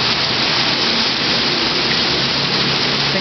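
Heavy rain pours steadily in a city during a strong windstorm, a dense, continuous close hiss with no speech.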